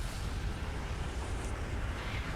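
A deep, sustained roar of a supernova explosion in the video game Outer Wilds rumbles continuously, dense low-end energy with a hissing wash on top, like a massive explosion swelling without pause.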